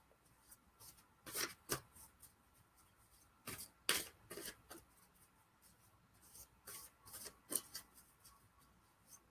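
Soft riffling and shuffling of playing cards in several quick bursts, faint and close, with quiet pauses between.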